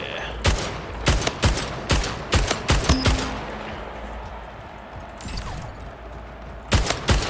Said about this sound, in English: There's the tank lasers.